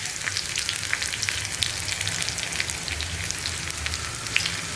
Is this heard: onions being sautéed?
yes